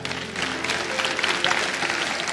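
A congregation applauds newly married couple during a church sermon, a dense steady wash of many hands clapping throughout, fairly close and loud.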